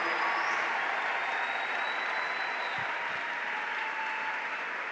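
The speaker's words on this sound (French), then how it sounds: "Est-ce qu'on peut acclamer Jésus?" A church congregation applauding and cheering for Jesus, dense sustained clapping and crowd noise filling the space evenly from start to finish.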